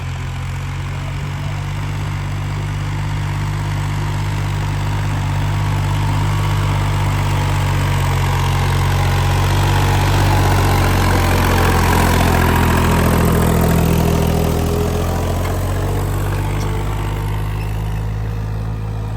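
A Massey 254 4x4 tractor engine runs steadily close by for the whole stretch, a constant low diesel drone that swells slightly in the middle, with no voices.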